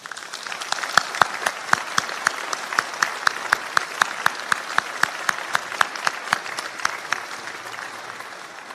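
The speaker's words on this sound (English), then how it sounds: "Please do join me in applauding their success." Sustained applause from a graduation audience at a college ceremony, dense steady clapping with sharper individual claps standing out, continuous and fairly loud throughout.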